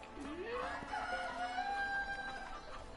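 Chickens in the video game A Way Out, a rooster crowing loudly with rising and falling calls, plus clucking, fairly close and clear, with faint speech in the background.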